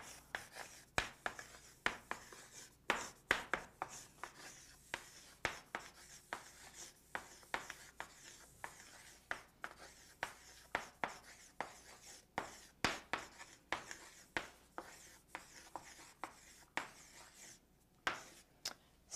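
Marker or chalk writing spherical coordinate formulas on a board, a close, quiet series of short scratchy strokes and taps in an irregular rhythm.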